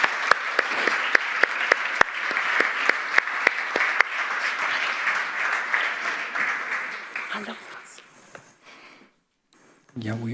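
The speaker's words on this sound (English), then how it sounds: "Please give an applause to them while they're coming up." An audience applauds as a conference panel comes up on stage, a dense sustained round of clapping punctuated by sharp nearby claps, fading out around eight seconds into near silence before a voice begins at the very end.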